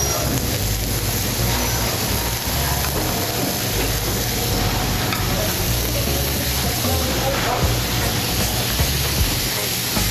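A teaspoon of butter sizzles in a hot pan with a steady, loud hiss throughout, over a low background drone.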